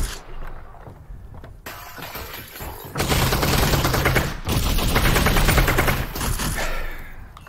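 Gunfire from the virtual reality game Half-Life: Alyx cracks out in loud bursts of rapid shots with sharp impacts, a quiet stretch opening before dense, sustained firing takes over.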